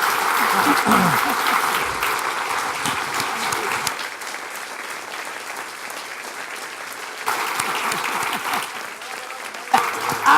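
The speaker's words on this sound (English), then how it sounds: "please join me in thanking both Michael and Carol. I'll give you a little clap." A room full of people at a talk on the Facebook and Cambridge Analytica investigation claps warmly, loud at first, easing off midway, then picking up again before trailing away.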